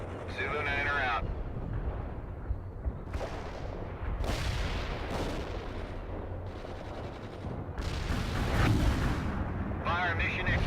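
Artillery rounds from a fire mission in the World in Conflict video game boom and rumble in repeated heavy bursts, loud and close, with rolling explosions, while voices talk over the barrage.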